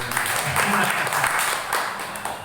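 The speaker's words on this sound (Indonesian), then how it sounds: "Tepuk tangan dong buat beliau." Applause from a gathering of housewives at a fresh noodle-making training session in Jambi, a steady wash of clapping lasting a couple of seconds, moderately loud, with a voice talking faintly over it.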